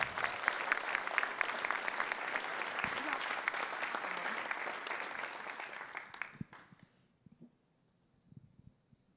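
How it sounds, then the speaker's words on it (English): An audience applauds award-winning students at a school district ceremony, a dense, steady round of clapping that carries for about six seconds before trailing off into a few scattered claps and near silence. "Let's give them another round of applause."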